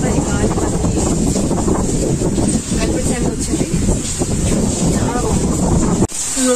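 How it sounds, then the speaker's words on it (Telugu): Strong wind roars and buffets the microphone in rainy weather in Visakhapatnam, a loud, continuous rushing gust that holds steady for several seconds before briefly dropping near the end. "గాలి వేస్తుంది అసలు ఆహాహాహా బాగుంది"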